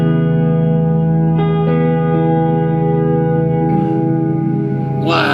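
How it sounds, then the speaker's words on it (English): A sustained electric guitar chord through a reverb pedal into a budget tube amp rings out with a wide, washy reverb tail, a few notes shifting within the shimmering sustain. "turn on just the reverb pedal"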